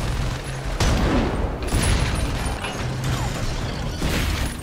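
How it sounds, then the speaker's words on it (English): A flak machine gun fires in the Iron Brigade video game, a dense, continuous rattling barrage with loud bursts that swell and ease over a few seconds. "Look at that flak machine gun tearing up those aerials."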